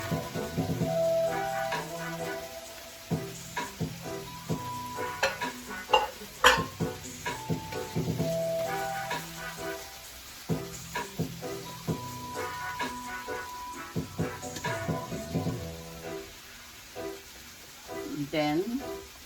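Carrots and seasoning go into a simmering pot of Jamaican lima bean stew with vegetables and okra, giving a steady sizzle with repeated stirring, scraping and utensil clinks against the pot while someone talks over it.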